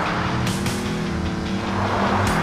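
Rally car engine in a PSX racing video game straining to rev, a loud continuous droning whine that climbs slowly with small surges and never reaches high revs.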